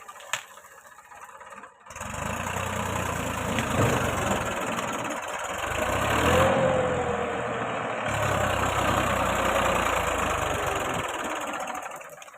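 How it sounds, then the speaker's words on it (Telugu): A tractor engine, arriving to plough a field, rumbles steadily at close range, its low chugging drone holding for several seconds after a quiet start. "ఇగో ట్రాక్టర్ అయితే వచ్చేస్తుంది దున్నడానికి."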